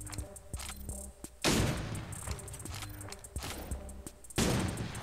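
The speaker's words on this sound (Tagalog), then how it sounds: "Ito pala yung sniper rifle nila." Gunfire in the video game Cyber Hunter, with two sharp, loud sniper rifle cracks about three seconds apart, each with a short tail, over lighter clicks and footstep-like taps.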